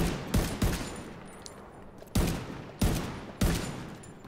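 Gunfire in The Division 2, a handful of sharp separate shots and short bursts ringing out with gaps between, loud and close against a quiet backdrop.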